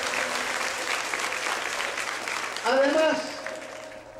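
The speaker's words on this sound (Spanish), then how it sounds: "Un aplauso." Audience applause at an inauguration ceremony for a radio station building, a steady broadband patter of many clapping hands filling the room, with a voice speaking over the tail end as the clapping fades.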